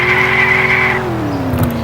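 Car tires squealing and skidding while doing donuts in a driving video game, a loud sustained screech over engine drone lasting under two seconds.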